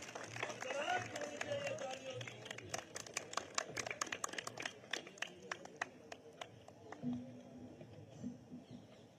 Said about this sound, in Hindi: तालियों से स्वागत कीजिए सर का